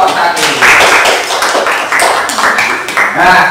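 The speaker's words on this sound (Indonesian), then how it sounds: "Tepuk tangan untuk kelompok 1." A primary-school classroom claps for a group of pupils, a loud, dense patter of many hands close by that rises and falls in bursts for several seconds.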